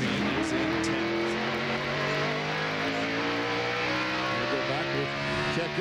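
NASCAR Winston Cup stock cars racing at Martinsville Speedway in 1997, a continuous loud engine roar with shifting pitch from the field of cars on the short track, with commentary over it.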